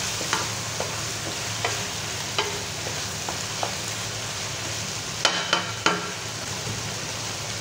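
Chicken pieces frying in a pan for curry, a steady soft sizzle broken by scattered sharp scrapes and clicks of a utensil stirring, fairly quiet, no voices.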